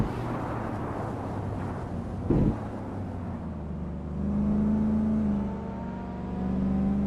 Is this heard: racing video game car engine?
yes